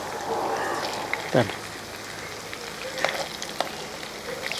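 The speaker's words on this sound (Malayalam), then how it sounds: "രണ്ട് ട്രിപ്പായിട്ട് നമുക്ക് വറുത്തെടുക്കാം" Steady sizzling of beef frying in hot oil, moderate and continuous, with a few clinks of a utensil stirring.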